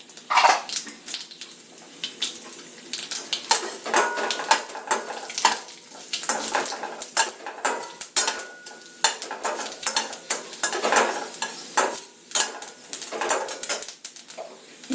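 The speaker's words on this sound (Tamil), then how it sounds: "இப்போ கடலைப்பருப்பு, உளுத்தம்பருப்பு, சிகப்பு மிளகாய் அதையும் போட்டுக்கலாம்." Chana dal, urad dal and red chillies tossed into a hot tempering pan, crackling sizzle with repeated clinks and scrapes of stirring, close and uneven throughout.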